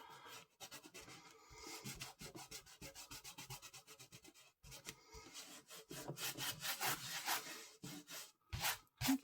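An eraser rubs pencil lines off watercolour paper in quick, close, scratchy back-and-forth strokes, in bursts with short pauses, quiet and without talk.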